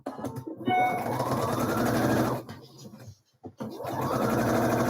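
A sewing machine restitches a blouse yoke seam at a smaller stitch length, running in a close, steady burst that speeds up, breaks off briefly, then starts again and builds.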